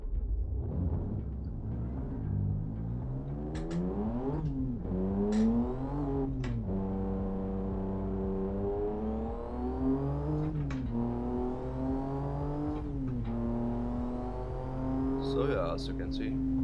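Traffic cars driving on the Shutoko Revival Project expressway map in Assetto Corsa, a near engine droning and revving up and down through gear changes, with whooshes of other cars passing.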